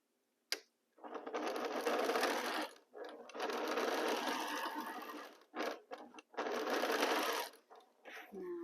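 Sewing machine stitching pieces of quilting fabric together, running in loud steady bursts of rapid whirring with short pauses between seams.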